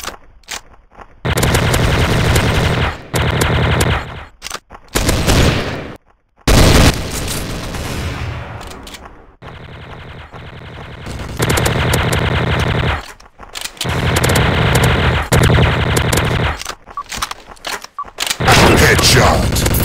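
In a Special Ops video game, a TMP submachine gun fires in loud, rapid bursts that repeat with short gaps, while game announcer voice callouts play in between.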